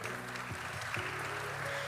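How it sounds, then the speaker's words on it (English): An audience at a school investiture ceremony applauds, a dense, steady wash of clapping that fills the whole moment without pause. "Let's have a huge round of applause for the same."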